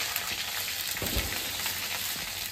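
Grated ginger fries in a pan on a home stove, giving a steady, moderate sizzle with a brief louder stirring bump partway through and no speech.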